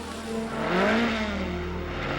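Engine revving in the Sega Video Driver driving game, a steady synthetic motor tone that swells in pitch and loudness near the one-second mark, then settles into a sustained drone across the rest of the short clip.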